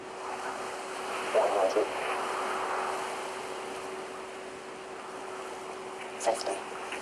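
A passenger airliner on a flight from Dakar lands at Rome, its steady cabin roar and engine hum holding throughout, with a constant tone and a couple of brief clunks or rattles near the start and end.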